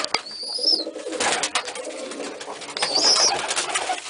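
Pigeons cooing in a loft with nest boxes: soft, close, repeated throaty coos with a few higher chirps between them, and no talking.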